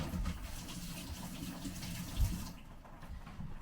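Raw chicken rinsed under a running kitchen tap, a steady close gush of water splashing in the sink with no talking.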